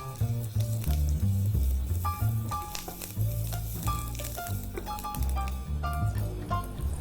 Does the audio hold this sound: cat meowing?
no